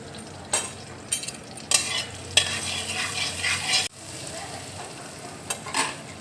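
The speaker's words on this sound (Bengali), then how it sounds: "কড়াইয়ের মধ্যে এবার আমি মাখন দিয়ে দিচ্ছি" Butter melts and sizzles in a hot wok over a gas flame, a steady crackling fry with occasional sharper stirring scrapes and clinks, close and fairly loud.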